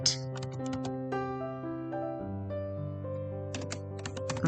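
Key clicks from typing on a computer keyboard, scattered taps sounding faintly over sustained tonal background music.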